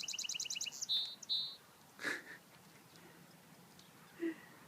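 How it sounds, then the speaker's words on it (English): A small bird in spring during an early morning walk in White Rock, British Columbia, gives a rapid trill followed by several clear separate chirps and calls, faint against quiet outdoor background. "sound of our favorite little bird. I think he's calling a mate or something."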